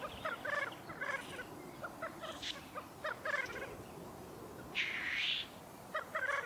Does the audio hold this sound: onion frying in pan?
no